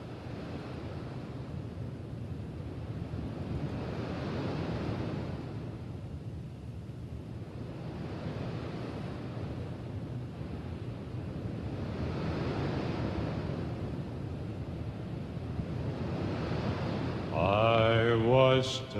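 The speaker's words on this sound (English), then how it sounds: "he created some sound effects of some waves, and so you can about see the old ship of Zion coming in when you hear these waves crashing" A sound effect of ocean waves crashing: broad, rolling surges of surf swell and recede in slow, repeating cycles, steady and moderately loud, with a brief tonal musical sound entering at the end.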